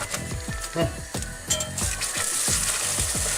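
Butter drops into a melting candy mixture in a pan and sizzles, with a rhythmic series of scraping stirs over a steady frying hiss that grows fuller toward the end.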